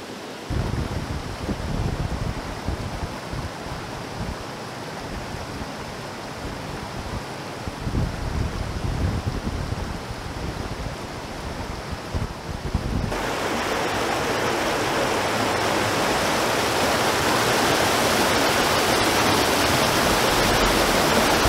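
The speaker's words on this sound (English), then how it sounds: "The whole entire river is just compressed through that little hole in the rocks," A whole river forced through a narrow gap in the rocks, about two feet wide, roars as a steady, loud broadband rush of churning water that grows even fuller partway through.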